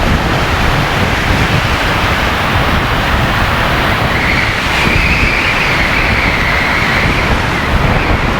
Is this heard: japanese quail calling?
no